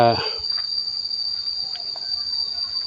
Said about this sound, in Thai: จะได้ยินเสียงจิ้งหรีดร้องจี้